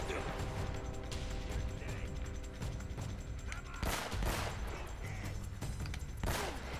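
Gunfire rattles through a firefight in Uncharted: Drake's Fortune, dense bursts and sharp shots over constant game noise, with a couple of heavy impacts standing out.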